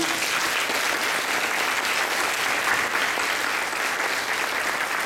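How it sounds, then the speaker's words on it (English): Audience applause for Girl Scout alumni at an investiture ceremony, dense sustained clapping from a large crowd filling the room at even loudness throughout. "A round of applause for our alumni."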